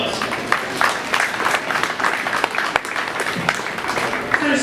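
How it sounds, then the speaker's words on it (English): Crowd at a county fair 4-H and FFA meat goat show applauds the exhibitors with close, lively clapping mixed with scattered voices and murmur, staying loud and busy throughout. "give those exhibitors a nice round of applause"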